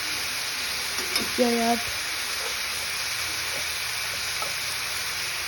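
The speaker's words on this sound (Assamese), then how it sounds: "তিতা কেৰাহীখিনি বহাই দিলোঁ" Sliced bitter gourd frying in a pan gives a soft, continuous sizzle and hiss. Someone speaks briefly over it, and there are a few light stirring scrapes.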